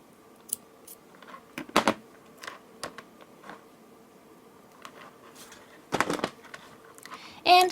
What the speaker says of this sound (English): Now I will take the scissors, cut the thread,